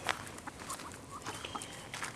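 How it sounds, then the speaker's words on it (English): Chickens clucking softly at a moderate distance, scattered short calls over a quiet outdoor background. "These are the chickens I've had for a while now."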